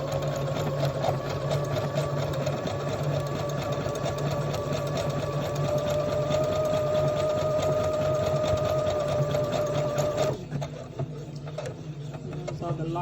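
A sewing machine stitches a buttonhole automatically with no guiding, whirring in a fast steady mechanical rhythm up close, then slowing into a few locking stitches before dropping to a quieter idle.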